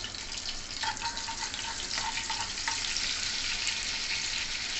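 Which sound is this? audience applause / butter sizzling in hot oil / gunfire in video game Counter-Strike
butter sizzling in hot oil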